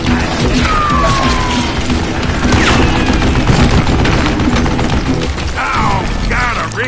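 Gunfire in the Western game Call of Juarez: Gunslinger, with loud close shots mixed with mechanical clicks and ratcheting of gun handling and reloading, dense and continuous across several seconds.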